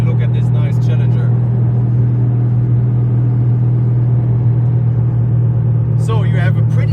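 A Corvette C6 Z06 small-block V8 with titanium valves rumbles steadily while driving, a low continuous drone heard from inside the car. A person talks over it at the start and end.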